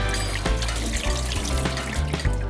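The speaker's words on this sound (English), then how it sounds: "So before you start, you wash your hands." Tap water runs steadily over hands at a kitchen sink before cooking, a continuous close splashing trickle with small bursts as the hands move through the stream.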